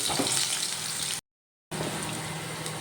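Long-cut potato slices frying in hot oil give a steady, dense sizzle, broken once by a half-second gap of silence before the crackling resumes at the same even level.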